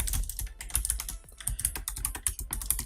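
C++ code is typed on a computer keyboard in quick, irregular bursts of crisp key clicks, close and fairly quiet, with no talking.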